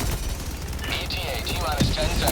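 An automatic turret fires steadily in the video game Helldivers 2, a dense continuous rattle of loud gunfire with bursts and impacts layered over the whole stretch.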